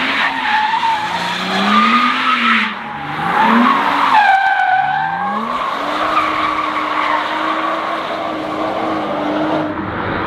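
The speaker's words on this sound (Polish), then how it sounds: "drift car, czyli auto do sportu," A BMW F31 335i drift car squeals its tires in long, sweeping skids over a loud, strained engine. The squeals bend and shift pitch continuously for about ten seconds with no talk.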